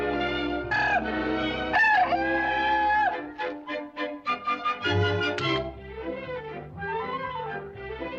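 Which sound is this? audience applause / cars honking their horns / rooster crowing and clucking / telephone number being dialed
rooster crowing and clucking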